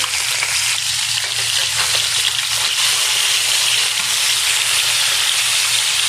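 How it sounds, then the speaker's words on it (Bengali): Vegetable stalks frying with shrimp and potato, a loud, steady, dense hiss of oil sizzling close up, unbroken throughout. "ডাটা ভাজি করছি।"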